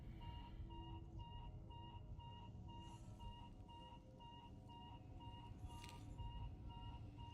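An in-game alarm in a video game beeps in a steady repeating pattern of short electronic tones, faint and continuous over a low background hum, with no talking.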